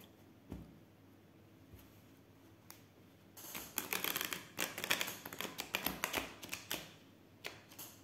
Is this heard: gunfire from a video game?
no